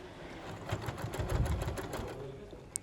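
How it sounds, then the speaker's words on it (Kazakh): A sewing machine stitches white ribbon strips together for patchwork, a short close run of fast, even mechanical whirring and needle thumps that builds and then fades, ending with a small click. "Осылай қосып тігіп шығасыз."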